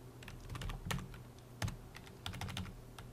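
Steady clicking of computer keys, quick irregular taps with a few louder strokes, close by and with no talking.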